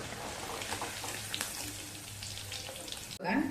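Paneer frying in oil until golden, a soft steady sizzle with faint crackles heard up close and fairly quiet, then a sudden clatter near the end.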